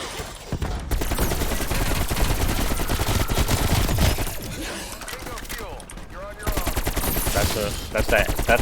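Rapid bursts of video game gunfire as a player shoots at zombies, loud and nearly continuous with dense rattling volleys, briefly thinning before the shooting resumes.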